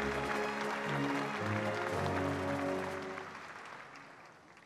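Audience applause at a Korean War armistice and UN veterans commemoration ceremony, a broad crowd clapping mixed with sustained musical tones, holding steady and then fading away over the last couple of seconds.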